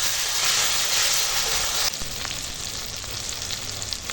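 A spice paste sautéing in a pan for a fish curry with grass pea greens and spring onions, a steady loud sizzle that drops slightly midway, with faint scraping stirs throughout.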